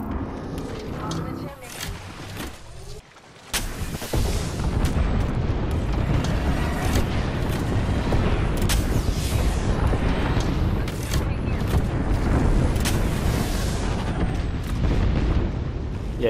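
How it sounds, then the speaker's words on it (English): Airstrike explosions in the battle royale game Apex Legends land in a heavy, continuous barrage of booms and blasts, loud and rumbling for over ten seconds after a brief lull. "Calling the airstrike."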